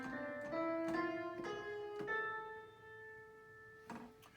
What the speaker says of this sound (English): So the harmonic form of the scale sounds like this.